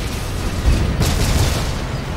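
A grenade explodes during a WWII battle at Kasserine Pass in Codename: Panzers Phase Two, a heavy low boom with a sharp burst in the middle, loud and close amid rumbling combat noise.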